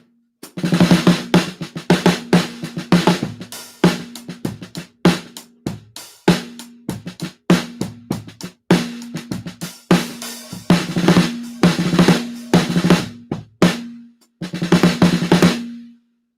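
Snare drum damped with a Big Fat Snare Drum ring, a close, loud pattern of dry, sharp hits with quick decay and a short low ring, played alone in varied rhythm.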